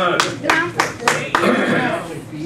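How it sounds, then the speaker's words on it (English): An audience gives a small round of applause at a chamber of commerce gathering, several distinct loud claps standing out over a thinner spatter of hands, with some talk mixed in. "There we go. A little applause."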